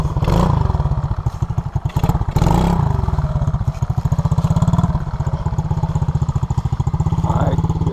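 SSR Motorsport 110cc dirt bike engine running close by, a loud rapid single-cylinder putter that rises in short revs with a little throttle before settling back toward idle.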